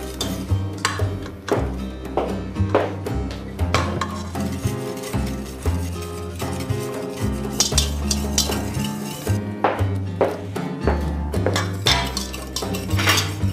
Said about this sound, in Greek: we're going to just go ahead and stir this constantly